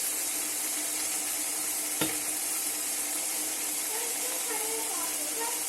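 Food frying in oil with salt added, stirred in the pan, giving a steady broad sizzle throughout with one sharp scrape or tap near the start and faint voices toward the end.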